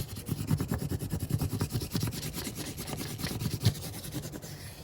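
Pencil lead rubbed back and forth over paper laid on a plant leaf, producing quick, close, soft scratchy strokes in a steady rhythm.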